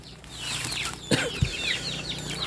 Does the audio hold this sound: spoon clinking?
no